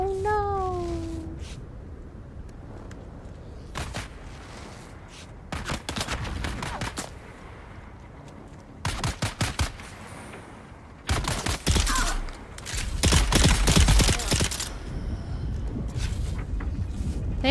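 Bursts of enemy gunfire in Dune: Awakening crackle in several separate clusters, some rapid like automatic fire, with a louder sustained volley near the end, alongside game sound effects.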